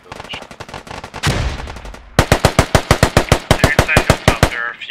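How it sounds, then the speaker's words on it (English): Loud, rapid automatic gunfire in the Squad combat video game, with a burst, a heavier blast around the midpoint, then a long rhythmic string of sharp shots, fitting 203 grenade launcher fire onto a roof. "Shooting 203s onto the roof."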